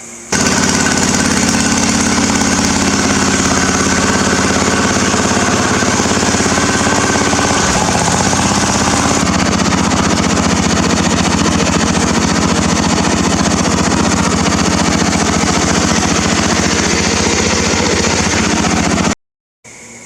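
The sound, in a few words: mud mower engine running on test drive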